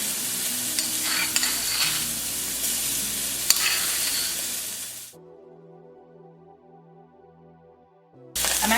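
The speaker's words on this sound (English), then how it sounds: "the garlic is already charred, so it's too hot" Diced jalapeño and garlic fry in a hot pan, a steady loud sizzle with stirring scrapes that cuts out abruptly partway, leaving near silence before the sizzle returns at the end.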